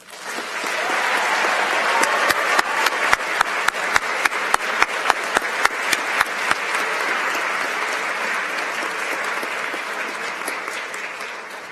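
Sustained applause from an audience at a school awards ceremony, steady and full for about eleven seconds with a few sharper nearby claps standing out before slowly tapering.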